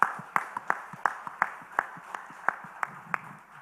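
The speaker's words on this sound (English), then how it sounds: "Let's welcome him with a big round of applause" Sparse rhythmic clapping from a small conference audience at a business conclave, roughly a dozen distinct, evenly spaced claps at moderate volume that fade toward the end.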